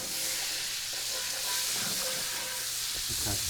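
Butter melts in hot olive oil in a pan, giving a steady close hiss and sizzle that stays even throughout, with faint crackles and no talking.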